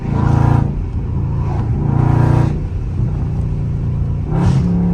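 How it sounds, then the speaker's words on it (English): Loud Dodge Scat Pack engine revving hard in bursts, with deep rumbling throttle blips and a downshift, close and continuous over about five seconds with no talk. "My Lord, that downshift is stupid."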